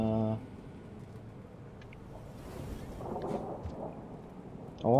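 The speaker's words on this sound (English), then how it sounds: "Oh, nice. Thunder." Thunder rumbling through a rainy scene in the video game Rain World, a broad low roll that swells and fades over several seconds beneath steady rain-like noise, with short voiced bursts at the start and end.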